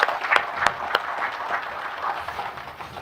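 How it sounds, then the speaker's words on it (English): Applause from an audience at a formal ceremony, with scattered individual claps and a soft crowd patter through the whole stretch, fairly distant and moderate in level. "let's give them a round of applause"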